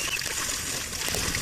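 Spring water pouring out from beneath a hill near Medaram, a steady, close rush and splash that keeps up without a break, with no voices.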